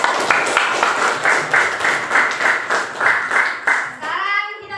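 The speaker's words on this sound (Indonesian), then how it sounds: "Tepuk tangan teman-teman" Students clap their hands together in a classroom, a rhythmic series of sharp claps in quick succession, loud and close, ending in a brief trailing sound.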